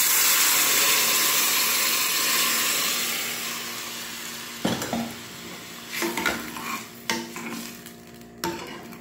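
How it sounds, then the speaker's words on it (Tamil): Tamarind extract goes into a sautéed mixture in a pan for vatha kuzhambu, a loud broad hiss at first that settles into quieter bubbling broken by several sharp clanks of a spoon against the pan. "இப்போது இது நல்லா வதங்கிட்டு இதில் நம்ம கரைச்சி வச்சுருக்க புளி கரைசலை இதில் விடலாம்"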